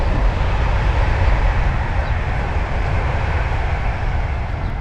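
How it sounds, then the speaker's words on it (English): A train rumbles along the rail line right behind a narrowboat marina, a loud, steady broadband roar with heavy low-end rumble that holds for the whole stretch with no talking. "here's a train coming now"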